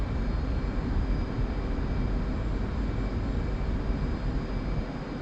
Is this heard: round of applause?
no